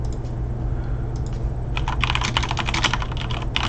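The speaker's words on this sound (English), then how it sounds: "I know you love how loud this keyboard is, Krusty." Keys clack on a loud computer keyboard in a quick, close burst of typing after a short quieter stretch.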